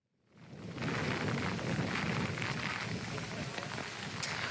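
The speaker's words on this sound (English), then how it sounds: "right now we're getting a lot more wind and rain that has really picked up in the last 30 minutes" Heavy wind and rain from Hurricane Nate in Biloxi, Mississippi roar as a dense, steady, loud wash of noise that swells in within the first second and holds without a break, with no talking.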